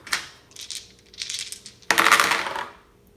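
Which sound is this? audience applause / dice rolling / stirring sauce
dice rolling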